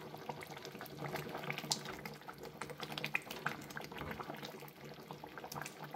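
Fish curry simmering in a pan on a gas stove, a steady soft bubbling and sputtering with small irregular pops, faint and continuous, and no talk.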